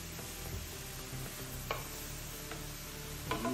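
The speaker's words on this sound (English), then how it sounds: "we're gonna probably let these saute about 4 or 5 minutes" Vegetables with pepper and salt sautéing in a pan for cornbread stuffing, giving a soft, continuous sizzle with a few light clicks and taps from stirring, fairly quiet and close.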